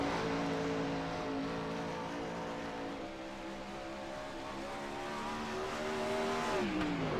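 A 410 winged sprint car blasts through a qualifying lap at Knoxville, its engine droning loud and steady with a rising pitch, then dropping sharply near the end as it lifts off, with no voices present.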